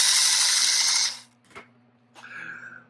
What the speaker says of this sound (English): So on the actual motor itself, the pulley turns.